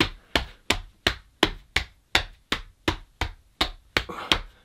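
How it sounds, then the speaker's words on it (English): Hammer-fist punches striking the stomach during a kickboxing stomach-conditioning workout: about a dozen sharp, evenly spaced thuds, close and fairly loud, each dying away quickly, with no talking. "as you're hitting your stomach, you can use the hammer fist area"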